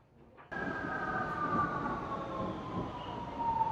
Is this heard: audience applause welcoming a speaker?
no